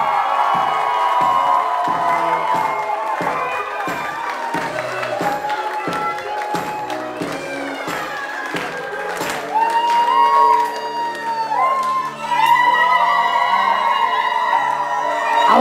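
Wedding guests at the Kinney Bungalow in Narragansett, Rhode Island clap and cheer together as a crowd, with a dense stretch of steady applause giving way to louder whoops and shouts, continuing throughout.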